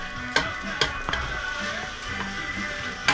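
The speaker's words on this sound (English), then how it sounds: "So here we are, we're sauteing again." Ingredients sautéing in a pan for a tikka masala-style dish, a steady close sizzle with occasional sharp clicks and knocks of a utensil against the pan, no talking.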